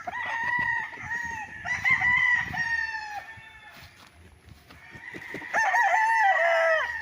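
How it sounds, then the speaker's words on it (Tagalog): Roosters crow loudly in drawn-out calls, two bursts separated by quieter clucking and scratching of chickens nearby, beside chicken coops on a farm lot in Pagsanjan, Laguna. "kulungan ng manok dito sa gilid."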